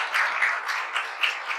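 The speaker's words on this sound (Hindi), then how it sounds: "ताली बजाइए।" Brief applause from an audience at a felicitation for a newly selected sub-inspector, a quick patter of clapping hands in short bursts, moderately loud and alone.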